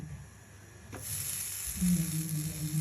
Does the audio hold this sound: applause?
no